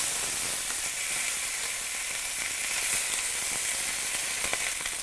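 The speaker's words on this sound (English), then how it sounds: "you want to turn them over a few times just so we can get all the sides coloured" Pieces of lamb sear in a hot pan, giving a steady, close sizzle and crackle of frying throughout, with faint scattered pops and no voices.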